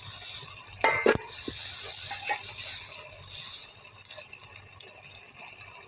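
Moiti fish dropped into a hot pan of pumpkin stems, potato and eggplant curry, giving a steady sizzle with a few sharp clatters and stirring knocks near the start, close and fairly loud, with no talking.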